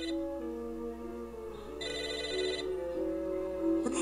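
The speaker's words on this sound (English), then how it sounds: "It's a telephone." An old-fashioned telephone rings in the video game Psychonauts, repeated bright electronic ring bursts over a steady tonal musical background, fairly faint.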